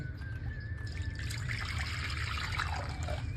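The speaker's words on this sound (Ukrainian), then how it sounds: "В мисці з'єднуємо воду, вона повинна бути нагріта до теплого стану." Warm water poured into a bowl for a yeast dough starter, a steady close trickle and splash that runs continuously for a few seconds with no talking.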